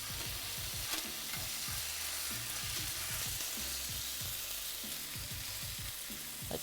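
Burgers sizzling in a hot pan, a dense steady hiss with repeated low scraping knocks from a spatula as the patties are worked and flipped, close and alone without talk.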